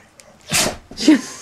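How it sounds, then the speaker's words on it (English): A pregnant female dog sneezes twice in quick succession, each a short, sharp burst close by with a brief gap between them. "She sneezed so much for being vicious."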